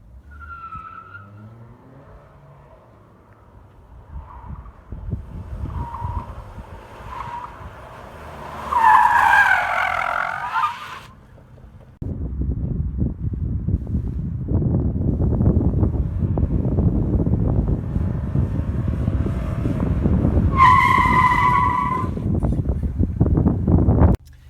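A 2011 Mercury Milan's tires squeal and skid in two long bursts during a slalom and braking test, with engine and wind roar rising loudly between and after them.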